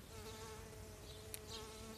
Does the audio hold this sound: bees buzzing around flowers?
yes